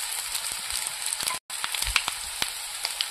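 Spice paste of ginger, garlic and chili sizzling and frying in a pan for a village-style katla fish curry with potatoes, a steady close crackle with scattered pops and a brief gap partway through.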